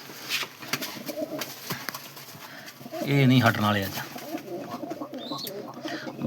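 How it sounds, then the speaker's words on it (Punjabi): Pigeons coo and flutter nearby amid scuffling and wing flaps, while someone talks over the commotion. "ਆਪਣੇ ਕਬੂਤਰਾਂ ਦਾ ਕਿਤੇ ਰੱਤੇ ਨਾਲ ਰੱਤਾ ਲੜ ਪੈਂਦਾ"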